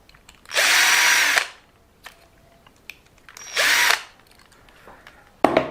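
A power drill backs out screws on a WLtoys 104001/104002 RC car carbon fiber chassis, two whirring bursts of about a second each with small clicks between, close and alone.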